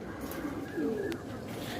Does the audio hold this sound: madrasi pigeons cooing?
yes